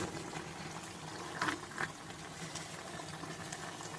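A pot of dal with prawns bubbles at a low, steady simmer, a faint continuous burble close by with a couple of brief louder gurgles.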